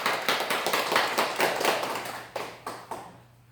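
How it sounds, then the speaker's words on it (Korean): A church congregation at a Korean worship service claps together in a loud, fast, rhythmic burst that slows into a few final claps and fades out. "박수 영광, 우리 박수 좀"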